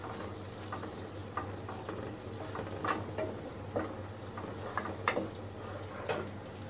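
Onion sizzling gently in melting fat in a pan for an okra and meat stew, a steady crackling hiss dotted with small pops and spits, close and moderately quiet, no talking.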